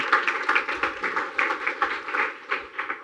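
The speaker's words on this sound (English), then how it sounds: "give her a round of applause" Audience applause after a business talk, a modest group of people clapping in an uneven, pattering rhythm at a moderate level, continuing steadily for about three seconds without speech.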